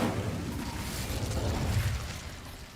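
An Incendio fire spell is cast in Hogwarts Legacy, a loud, sustained whooshing roar of flame with a crackling burst that stays dense throughout before easing slightly at the end.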